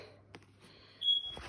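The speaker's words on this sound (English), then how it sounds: "the smoke detector has run out of battery, so that's annoying" A battery-depleted smoke detector in a house gives a single short, high electronic chirp, clear but moderately quiet against a faint room hum.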